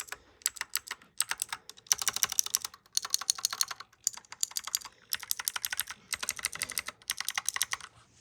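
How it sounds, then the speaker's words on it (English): Mechanical keyboard with clicky blue switches typed in quick bursts of sharp, crisp clicks, separated by brief pauses, close and clear with no talking. "This one is definitely using blue switches."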